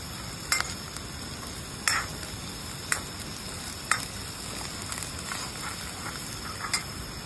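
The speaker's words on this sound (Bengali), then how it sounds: "পাহাড়ে করছি মাংস রান্না। রান্না বসিয়ে দিয়েছি।" Chicken curry cooking in a pot at a hillside campsite in Gurdung village, Darjeeling, with a steady low sizzle and bubble and a few sharp clinks of stirring.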